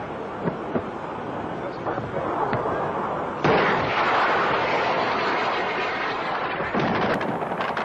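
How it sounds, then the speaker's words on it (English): Two rockets launched across the sky in a Falklands War air combat setting, heard as a loud sustained roaring rush with a sharp surge midway and a bright burst near the end, over a dense rumbling background. "Two rockets are fired, chasing across the sky."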